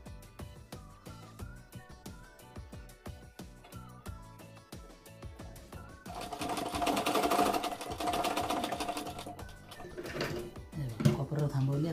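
A sewing machine stitches a katori-style blouse, its needle tapping rhythmically at first and then running in a louder, denser stretch before slowing again, with someone speaking throughout.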